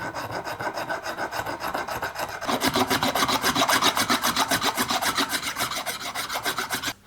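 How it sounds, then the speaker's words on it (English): Hard inlay filler on a hybrid Les Paul guitar body is worked with a hand file, giving a close, continuous rasping of rhythmic back-and-forth strokes that quicken and grow louder partway through. "Let's give it a file off."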